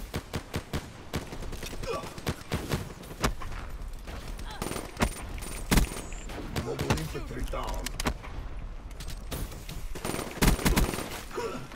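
Rapid gunfire from Call of Duty: Black Ops III multiplayer crackles almost constantly, with dense bursts of automatic shots and sharper single cracks layered close and far across the match.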